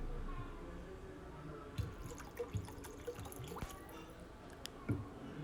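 Water trickles slowly into a thick egg curry masala in a pan, giving soft, faint drips and small splashes at irregular intervals over a quiet background.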